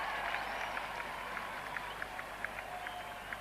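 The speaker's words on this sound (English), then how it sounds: "Great roar from the crowd." A crowd at a 1976 England versus West Indies Test cricket match applauds a shot, steady distant clapping and roar forming a broad wash with faint whistles and voices mixed in.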